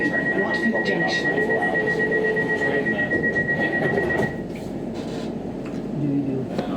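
London Overground Lioness Line train running toward Watford Junction, a steady interior rumble and rail clatter with a sustained high whine that drops away partway, voices murmuring faintly over it.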